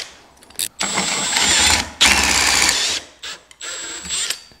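Power drill spins a Temu dowel maker on pine in several bursts, a loud whirring grind with a high whine, separated by brief pauses and rattling stops.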